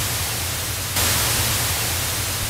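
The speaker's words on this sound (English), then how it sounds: "add some white noise in the background" White noise from an Audiotool synthesizer hisses steadily on its own, a low hum underneath, jumping brighter and louder about a second in and then holding constant.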